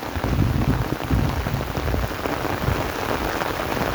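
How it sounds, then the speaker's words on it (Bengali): Heavy rain pours steadily over open village fields, a dense, continuous hiss and patter close by with no pauses and no voices. "প্রচুর বৃষ্টি হইতেছে।"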